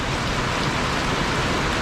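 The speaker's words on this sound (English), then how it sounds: "It is pouring down rain." Heavy rain pours down with a little hail on a mountain trail shelter near Tray Mountain, a steady, dense, loud hiss that never lets up and has no distinct drops.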